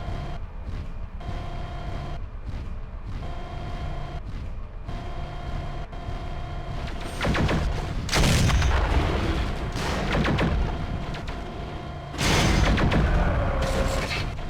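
Heavy mech weapons fire and explosions as a Thor is destroyed in MechWarrior 4, a low mechanical hum broken by loud, dense bursts of blasts and booms that swell midway and again near the end.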